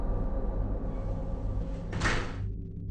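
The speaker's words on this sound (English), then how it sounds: "Was she also tampering with the door of the stall?" A stall door shifts in a recorded video, a brief scraping slide near the two-second mark over a steady low background hum, fairly faint and with no talking.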